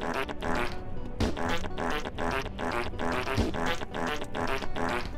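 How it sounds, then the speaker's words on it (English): A comedic novelty song built from fart noises plays loud and continuous, with rapid repeated sputtering blasts over a steady musical backing and no talking. "Vinny, I just found a funny fart song, if you want it."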